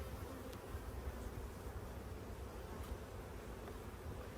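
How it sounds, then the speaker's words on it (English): Honeybees swarming over hive frames during a summer hive inspection make a dense, steady buzzing drone, continuous and close, with no talk over it. "some of these other frames, absolutely covered with bees"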